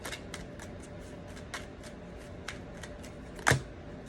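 Tarot cards shuffled and drawn close by, with a run of soft papery snaps and flicks spaced out over several seconds and one sharper slap near the end, no talking.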